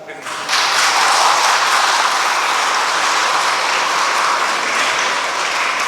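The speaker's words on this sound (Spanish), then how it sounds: "Vamos a darles un aplauso." Wedding guests inside a church at San Agustín Oapan break into applause for the bride and groom; a thick, sustained wash of clapping starts abruptly after half a second and carries on evenly to the end.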